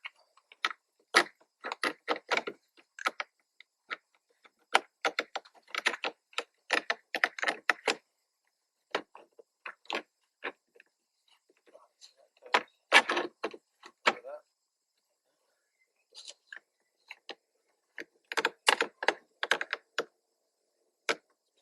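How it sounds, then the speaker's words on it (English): Plastic trim on a Volkswagen Scirocco rear door card clicks and rubs against other plastic as it is fitted, in scattered, irregular taps and scrapes close by, separated by near silence. "Plastic sounds horrible, it's great against some other sort of plastic."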